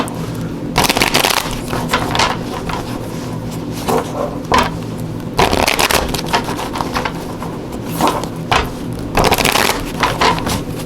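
Oracle deck cards are shuffled in several close, crisp riffling bursts with short pauses between them, alone without talk.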